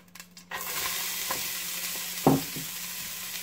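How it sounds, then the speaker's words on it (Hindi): Chopped onions sizzle steadily in hot oil for a Lahori chicken masala, with one brief clatter of stirring partway through; no one speaks. "इनको मैं गोल्डन ब्राउन होने तक इसी में फ्राई करूँगा"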